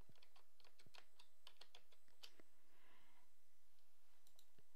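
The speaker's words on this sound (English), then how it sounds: "I'm going to go text and type in the word beach." Rapid keystrokes on a computer keyboard type out a short word, a quick series of faint, close clicks with a short gap midway.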